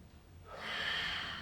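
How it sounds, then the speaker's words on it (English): A deep breath drawn during a stretch, a single long airy inhale swelling in after a brief quiet moment and holding steady, close and soft. "Take 2 big breaths here."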